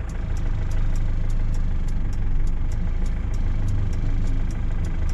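A car engine hums steadily from inside the cabin as it pulls away, a low droning rumble with a faint, evenly spaced high ticking like an indicator, no talk.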